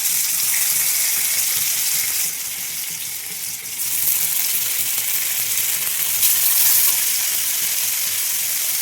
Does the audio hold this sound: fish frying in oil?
yes